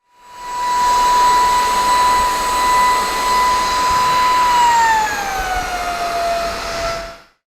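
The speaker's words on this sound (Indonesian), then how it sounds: "vakum ini nih akan secara otomatis menyesuaikan kekuatannya" A Hitachi X100 vacuum cleaner runs loud and close for about seven seconds, its steady high whine dropping slightly in pitch near the end as the motor adjusts its power automatically.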